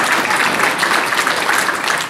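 A live audience at a comedian's leadership talk in Dunedin claps for the day's first winner, with steady dense applause that is loud and close and lasts the whole moment without a break.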